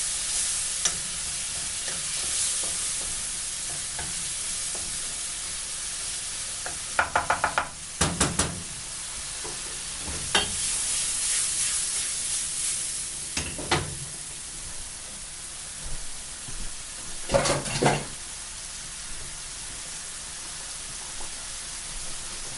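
Turkey mince samosa filling frying in a pan, a constant hiss of sizzling broken by several bursts of scraping and knocking as it is stirred.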